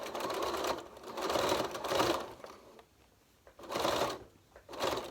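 A sewing machine stitches bias binding down to the bottom edge of the fabric in quick whirring runs, stopping briefly between bursts, close and fairly quiet.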